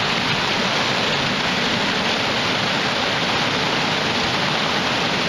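A river in Tamworth, New Hampshire spills over a waterfall in a constant, loud, even roar of rushing water close by.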